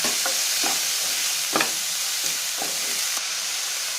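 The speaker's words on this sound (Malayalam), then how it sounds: "ഇനി ബ്രൊക്കോളിയും ചേർത്ത് 1" Broccoli stir-frying with onion, mustard seeds, dried chillies and curry leaves in an oiled pan for a Kerala thoran, giving a constant close sizzle with several scraping stirs at intervals and no voices.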